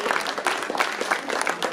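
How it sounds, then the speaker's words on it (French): An audience at a comics festival gathering applauds Franck Margerin on stage, a brief burst of lively, dense clapping close by. "On peut applaudir Franck Margerin"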